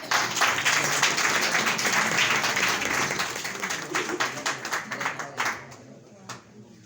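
An audience at a Christmas cake-cutting program gives a burst of loud applause that thins out into scattered single claps and fades away.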